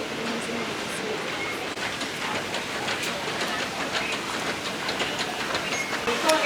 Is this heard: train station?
yes